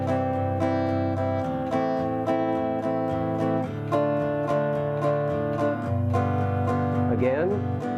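Acoustic guitar strummed in a steady rhythm with accented up strokes, each chord attack sharp and close, chords changing every couple of beats, with a brief pitch-sliding figure near the end.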